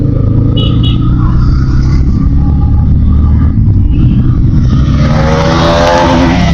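Motor vehicles on a road, with toto e-rickshaws passing by, make a steady, loud engine rumble and traffic noise throughout. No voice is heard over the drone.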